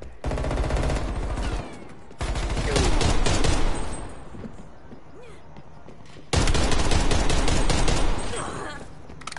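Rapid bursts of Type 63 automatic fire in a first-person shooter, dense loud volleys broken by short pauses, with a second heavy burst after a quieter middle stretch.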